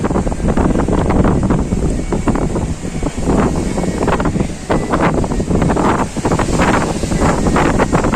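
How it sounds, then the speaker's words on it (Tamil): Strong wind roars steadily into the microphone at the Kanyakumari boat point for the Vivekananda Rock Memorial, a loud continuous buffeting rush with gusty swells throughout. "நல்லா காற்றடிக்குது."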